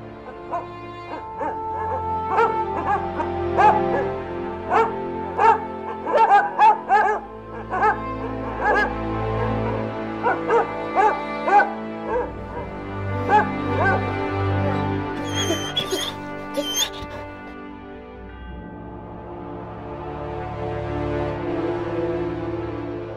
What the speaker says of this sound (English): the dogs outside erupted in frantic barking, as though an unwelcome visitor had slipped onto the property